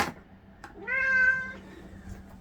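A house cat that has just brought a mouse indoors gives a single clear, close meow after a faint click, with quiet room tone around it and no talking.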